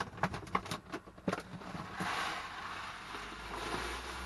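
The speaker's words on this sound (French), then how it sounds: "je mets de la litière au fond" Cat litter is poured into the bottom of a dry toilet in a camper van: a few light clatters, then a soft, steady granular hiss, heard close and fairly quiet.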